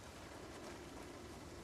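Steady rainfall in the zombie survival game Project Zomboid, a continuous even hiss of drops on surfaces with no breaks, fairly quiet and unaccompanied by voices.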